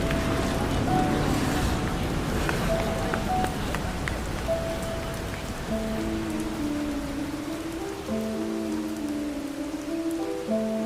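Steady rain falls onto surfaces in a continuous, even wash, with soft music tones playing over it.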